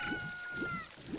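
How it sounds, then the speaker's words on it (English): A chicken hatched from an egg clucks in The Legend of Zelda: Ocarina of Time, three short regular clucks over a sustained game music tone, moderately loud and close. "The egg turned into a chicken?"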